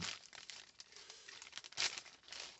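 A small plastic bag holding a map from a HeroClix Spider-Man Beyond Amazing play-at-home kit is torn open close up, giving quiet, steady crinkling and rustling with a sharper crackling burst near the end.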